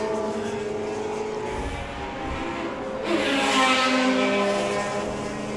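Several McLaren F1 GTR race cars sweeping past at Goodwood, a loud, steady engine roar that swells around the midpoint as more cars pass close by, with no talking.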